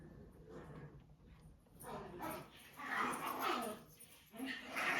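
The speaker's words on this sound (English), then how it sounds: "dogs in the background gotta make noises" Dogs whimper and yip in the background, with short barks and whines rising and falling over a few seconds.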